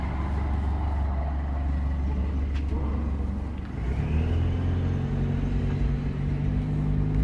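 An Ecoracing car with only accelerator and brake pedals runs on a race circuit. A rough, steady motor rumble gives way midway to a smoother engine hum whose pitch climbs as it speeds up, heard from on board.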